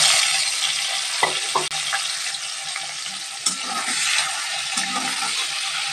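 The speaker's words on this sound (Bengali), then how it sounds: "চিংড়ি মাছগুলোকে যে লবণ আর হলুদ মাখিয়ে রেখেছিলাম সেটা ভেজে নেব" Prawns coated in salt and turmeric fry in hot oil, a loud, close, steady sizzle with occasional pops and clatters of stirring, and no talking.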